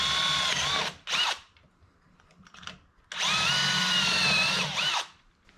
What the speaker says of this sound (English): I'm gonna drill that sucker out to a 1/4-20